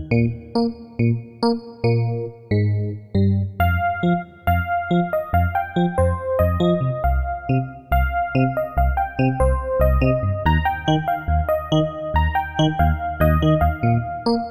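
Upbeat piano arrangement, a driving rhythmic left-hand pattern under a bright melody, played steadily and loud with no talking.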